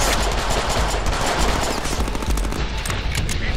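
Video game gunfire in Deadpool: sustained, dense automatic shooting that roars continuously at close range and fairly loud, with no voice over it.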